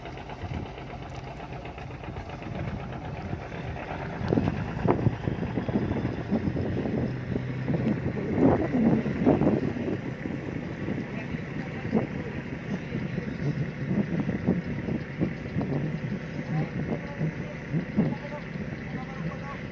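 A fishing boat's engine chugs at sea in a continuous mechanical rattle, heard through wind buffeting the microphone, with people talking loudly over it partway through.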